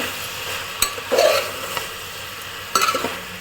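Boti gojju sizzling gently in a pan, soft frying hiss with a couple of sharp stirring scrapes and clicks of a spoon, close and fairly quiet, with no voices.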